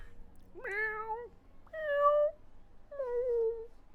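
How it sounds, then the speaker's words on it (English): House cats in Genshin Impact let out three distinct, rising-and-falling meows, each about half a second long and clearly spaced, close up against a quiet background. "Your cats seem pretty worked up."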